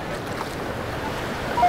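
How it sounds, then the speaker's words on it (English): Surf washes up on an ocean beach at New Smyrna after a hurricane, a steady rushing wash of water mixed with wind noise on the microphone, heard up close with no talking. "Let the wave wash it out for me."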